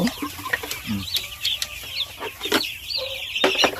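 Free-range native chickens, including young month-old birds, clucking and chattering nearby in a farmyard, with overlapping short calls and higher peeps in an irregular rhythm.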